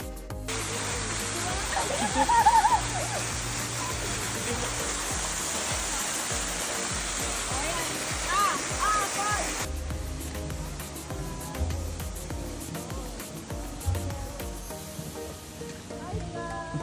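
Steady broadband rush of a waterfall at Mt. Camisong in Itogon, Benguet, loud and continuous throughout, with a change in tone partway through and faint voices underneath.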